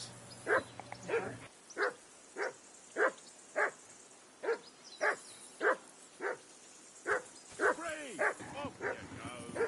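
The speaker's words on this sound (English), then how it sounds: "hear that damn dog of yours barking." A dog in the video game Kingdom Come Deliverance 2 barks repeatedly in a steady rhythm, about a dozen sharp, mid-distance woofs spaced roughly half a second apart, over quiet ambient game sound.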